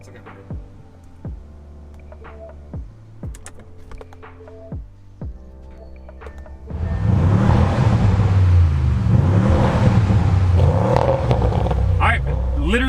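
An Audi RS6 Avant with a stage 1 plus tune sits ticking over with sharp blips before bursting into a loud boosted launch out of a driveway, the engine roaring steadily on for several seconds.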